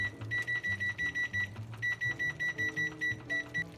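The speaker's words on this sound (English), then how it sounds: "So we'll set the timer for about 20 minutes." A kitchen timer beeps in rapid repeated bursts of four high electronic tones, steady and close, sounding through soft kitchen background noise without any talk.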